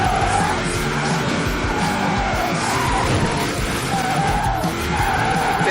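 Tires squeal continuously as a car drifts in Forza Horizon 4, the screech steady and loud for several seconds over a rumbling engine, with a higher whine wavering on top.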